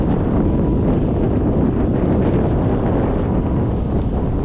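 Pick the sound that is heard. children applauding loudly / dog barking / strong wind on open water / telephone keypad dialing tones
strong wind on open water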